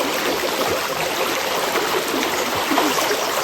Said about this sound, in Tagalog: Kusog ang tubig dito.